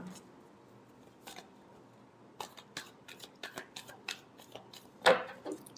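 Tarot cards shuffled by hand during a Capricorn love reading, a run of soft, papery riffles and flicks coming in quick irregular bursts, close and fairly quiet, with a louder snap near the end.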